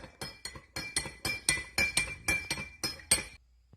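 A utensil clinks against a bowl while rice vinegar and oyster sauce are mixed, about a dozen bright, evenly paced glassy taps close by, then stopping.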